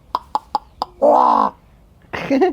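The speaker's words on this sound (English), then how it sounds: "you need to promise me you are not going to go over there and upset the crows" Crows calling outdoors: four short, sharp caws in quick succession, then a longer drawn-out croak and another rough call, loud and close.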